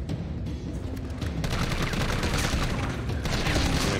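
Sustained loud gunfire in Resident Evil 3, rapid shots blending into a dense, continuous barrage that grows slightly heavier partway through.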